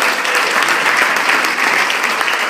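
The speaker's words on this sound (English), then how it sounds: "Let's make a big round of applause for Noelia" Big round of applause from a live show audience in Las Vegas, dense and steady clapping filling the room at full volume throughout, with no voices standing out.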